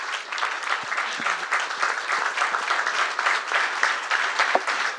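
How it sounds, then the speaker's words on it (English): Audience applause at a student panel event, dense sustained clapping from many hands in a room, fairly loud and even throughout, with a few faint voices underneath. "can we get a round of applause for him real quick?"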